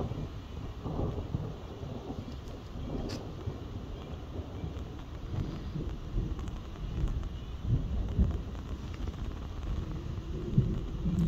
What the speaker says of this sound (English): We're literally right under the thunder clouds, but they're dissipating over there